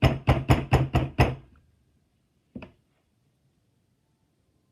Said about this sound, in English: Pierre pounded on a heavy door